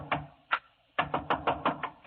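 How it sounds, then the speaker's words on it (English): Knocking on a door in an old radio drama, dry close raps, two single knocks and then a quick run of about seven, loud and clear in a quiet room. "I was banging on another door."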